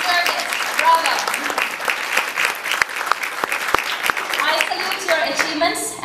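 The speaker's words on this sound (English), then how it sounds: "I want you to give an applause to yourselves, to your own achievements" Steady, dense applause from a crowd at a university graduation ceremony fills the whole stretch, with a few sharper individual claps and light voices mixed in.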